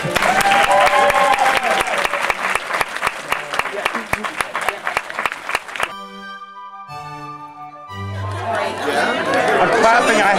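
A crowd claps steadily and briskly for several seconds amid lively chatter. A short musical chime plays, then excited talking and cheering return.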